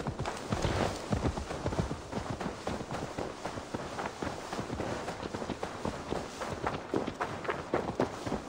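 Horse hooves clip-clop quickly and steadily in Assassin's Creed Valhalla, a dense rhythmic trot set against a busy ambient background.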